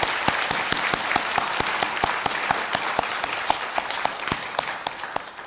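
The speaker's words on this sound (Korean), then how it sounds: "우리 목양부 식구들을 위해서 박수 한번 해드리도록 하겠습니다" A church congregation at a New Year prayer meeting claps in a crisp, fairly quick rhythm, individual hand claps standing out clearly and continuing evenly for several seconds without speech.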